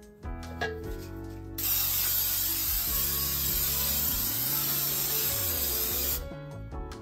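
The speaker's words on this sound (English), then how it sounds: "I'm getting ready to grease my pan" Cooking spray hisses steadily for several seconds as a bundt pan is greased, a loud close continuous spray with faint handling clicks before and after.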